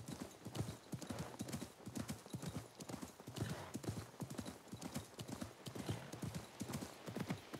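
Galloping hooves of a horse in Assassin's Creed Mirage drum in a quick, steady rhythm throughout, a continuous run of clip-clops at moderate, low level with no talking.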